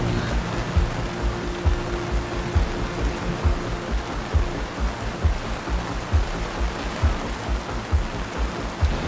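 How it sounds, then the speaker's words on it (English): Steady heavy rain hisses throughout, with soft regular low thumps of water hitting a surface underneath, no voices. "It's raining, so we'll post some here and there"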